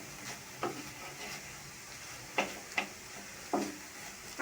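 Prawns frying in a pan with green chillies for a milk prawn curry are stirred, giving a soft sizzle with several sharp scraping clicks of the utensil against the pan, spaced irregularly and fairly close.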